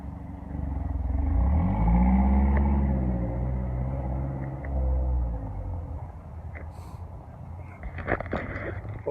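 A 2013 Mazda MazdaSpeed3 Touring with a 6-speed manual pulls away down a side street. Its engine note climbs through rising harmonics, drops briefly at a gear change, climbs again, then fades into the distance.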